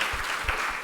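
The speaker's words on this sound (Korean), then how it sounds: "우리 박수." A congregation at a church service breaks into steady applause, dense and fairly close, with a few louder claps standing out. No one speaks over it.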